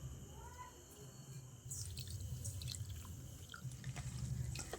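Water is poured from a bowl onto semolina and potato in another bowl, a faint liquid trickle and splash that starts partway through and carries on over a low background hum, with some light dripping and no talking.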